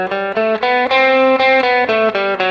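An electric guitar with a slightly distorted effects tone plays a Lydian flat 3 scale as a run of distinct, evenly spaced notes that ring out loud and close, with no one talking.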